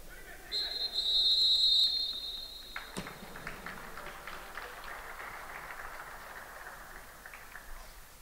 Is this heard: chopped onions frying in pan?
no